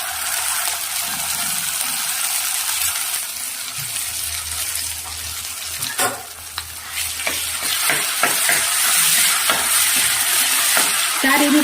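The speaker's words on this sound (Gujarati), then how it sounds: "સારી રીતે આપણે એને સાંતળી લઈશું" Garlic chutney sautéing in a pan with cumin and mustard seeds, a loud steady sizzle throughout with scraping and stirring clicks growing busier toward the end.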